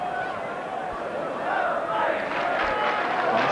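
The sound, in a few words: football crowd reacting at Barnsley v Millwall match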